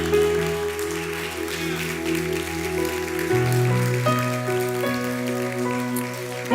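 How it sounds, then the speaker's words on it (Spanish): A church congregation applauds, steady dense clapping under sustained organ or keyboard chords that shift pitch partway through. "Vamos, denle un aplauso a Dios."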